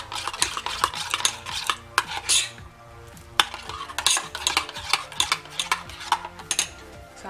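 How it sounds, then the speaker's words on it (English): A spoon stirs honey into a carrot soap mixture in a bowl, giving repeated clinks and scrapes of utensil against the container in an irregular rhythm, close and clear with no talking. "So I'm adding about 2 spoons of honey. So I'm going to mix it together."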